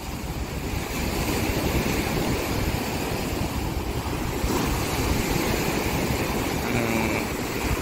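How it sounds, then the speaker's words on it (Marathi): Sea waves wash steadily onto a private resort beach in Goa, a continuous, dense rush of surf with some wind noise and no pauses throughout. "त्या समुद्राचा जो हैसर आवाज असा खळखळट"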